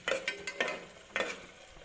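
Tomatoes are sautéed in oil for a vegetable pulao, with a few quick spatula scrapes and a light sizzle, close and fairly quiet in a short burst.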